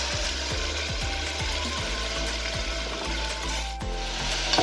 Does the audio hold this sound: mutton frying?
yes